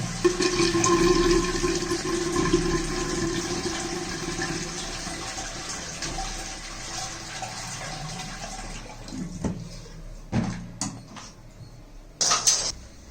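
A Western toilet flush tank empties in a loud rushing flush that slowly fades into trickling water, with a few sharp clanks and knocks near the end.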